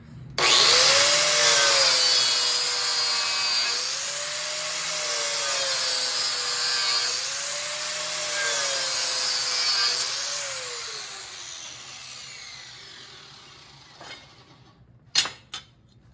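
Mower blade edges are touched up on a sharpener, a close, loud, steady grinding whine for about ten seconds that wavers in pitch, then a long spin-down fading to quiet, ending with a few clinks.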